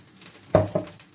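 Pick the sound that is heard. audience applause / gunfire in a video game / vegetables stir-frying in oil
vegetables stir-frying in oil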